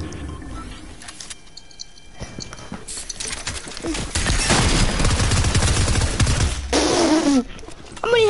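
Video game gunfire crackling in rapid bursts over a busy game soundscape, growing louder and denser toward the middle and end, with brief mechanical and chirping game effects mixed in.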